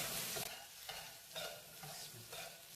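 Okra, or lady fingers, fry and are stirred in a pan, making a quiet, close sizzle with a soft swishing stir repeating roughly every half second, and no voices.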